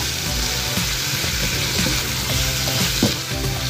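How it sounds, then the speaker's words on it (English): King prawns and garlic stir-fry in a hot pan, giving a loud, steady sizzle and hiss with a few scraping stirs and small clacks, close up and without speech. "Add garlic the shrimp. Cook it very quickly until it turns pink."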